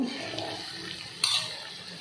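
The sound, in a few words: warm water poured into chicken curry pot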